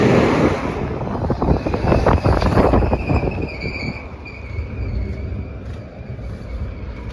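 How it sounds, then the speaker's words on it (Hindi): Wind buffets the microphone on a road trip between Yanbu and Riyadh with a truck carrying a load of tiles, a steady loud rumbling roar with gusty bursts in the first three seconds that ease off afterward. "हवा चल रही है।"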